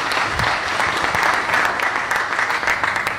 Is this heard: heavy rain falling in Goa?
no